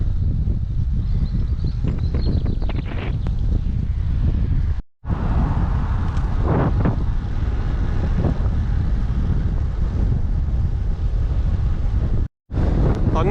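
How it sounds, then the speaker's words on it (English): A strong gale buffets the microphone of a cyclist at the southern tip of Cumbria, a loud, constant roaring gust with rumbling bursts and two brief dropouts. "I'm not sure if you can hear this with all the wind. It's blowing a gale out here"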